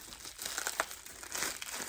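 Bubble wrap packaging around a piece of jewelry crinkles and crunches as it is pulled open, a steady close rustle with sharper crackles, no voices.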